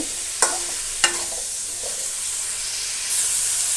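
Bitter gourd fries in a pan with an even, soft sizzle, broken by two sharp utensil clicks early on and the hiss swelling slightly near the end.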